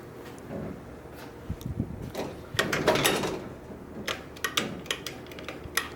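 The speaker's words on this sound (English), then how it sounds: "You can hear the relay." Sharp mechanical clicks of the controller relay of an antique Otis traction elevator, several in quick bursts over a low hum and faint rumble, nearby and without speech.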